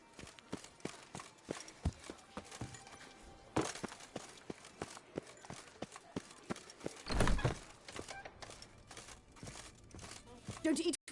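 Roach the horse gallops in a video game, hooves clip-clopping in a quick steady beat with crunchy rustling between strikes, moderately close, and a louder burst partway through.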